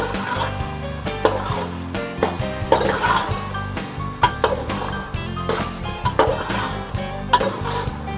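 Tomatoes being stirred in a pan while biryani is cooked at home, a constant sizzle with repeated sharp scrapes and clinks of the spoon against the pan at an irregular rhythm.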